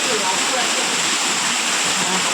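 A flooded river swollen by a heavy rainstorm rushes in a loud, constant roar of churning water, dense and unbroken, close by throughout.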